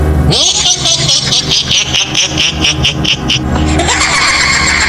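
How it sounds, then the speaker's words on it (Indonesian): A motorcycle speeds up as a sound effect: a loud engine revs and climbs in pitch with a dense, buzzing tone, then drops and surges again near the end. "Kupacu motor lebih cepat"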